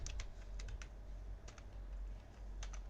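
Python code being typed on a computer keyboard, a run of quick, close key clicks in small bursts with short pauses, over a steady low room hum.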